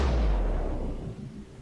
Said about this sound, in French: Joli tir sur le monarque.